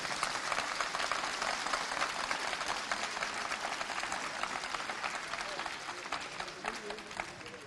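A ceremony audience applauds steadily for the graduates' parents, dense clapping filling the hall throughout at a moderate, even level.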